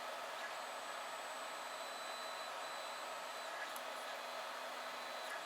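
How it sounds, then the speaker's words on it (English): A small fan pushes air through the heatsink of a Peltier cooler, a steady, faint, hissing whoosh with a thin high whine, continuous and unchanging. "I think really these are meant for the fan to blow this way."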